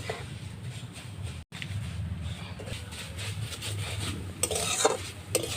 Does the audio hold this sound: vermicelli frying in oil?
yes